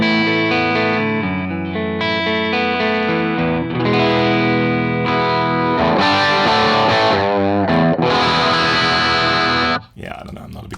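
An electric guitar on its neck pickup plays distorted chords and sustained notes through an overdriven amp model, thick and warm, ringing out before a brief pause near the end.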